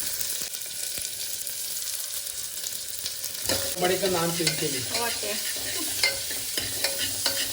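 Onion frying in oil gives a soft continuous sizzle throughout, and stirring and scraping in the pan grow busier partway through.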